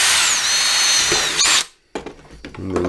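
A mini lathe turns a small metal part while the outside burr is taken off, giving a loud, steady whining spin that stops abruptly, followed by a few sharp metallic clicks and knocks before the motor starts up again.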